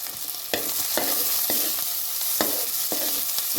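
Onions sautéing in oil with green chillies and garlic for South Indian sambar, a constant loud hiss of frying punctuated by regular spatula scrapes about every half second, close up and without talk.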